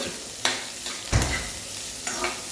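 Soft sizzle of shallots, onion, garlic, curry leaves and green chillies sautéing in hot oil with mustard seeds, broken by a few scraping stirs of a spoon in the pan.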